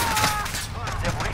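Gunfire rattles in Call of Duty: Modern Warfare, a dense, continuous stream of shots at moderate loudness, mixed with game ambience and a trace of voice.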